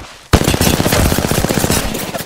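A loud, rapid burst of automatic gunfire rattles for about two seconds after a sudden onset, fired at the player in Apex Legends, with no voices over it.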